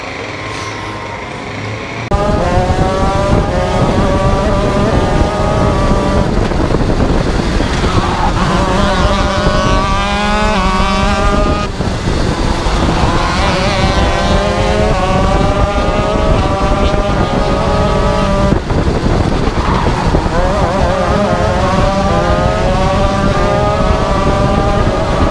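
Racing go-karts at a karting event drive on a track, with a steady, loud engine drone that runs without a break and rises and falls in pitch as the karts speed up and slow down.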